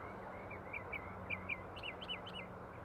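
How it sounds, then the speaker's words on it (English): Small birds perched on a grape crusher statue in Napa give repeated short chirps at a moderate distance over a steady outdoor background hum. "Look at those birds on the grape crusher."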